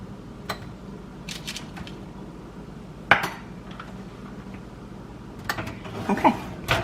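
A metal baking tray of pecan oatmeal raisin cookies slid back into a kitchen oven, with scattered metallic clanks and rattles, one sharp knock in the middle and a cluster of clatter near the end, close by and without talking.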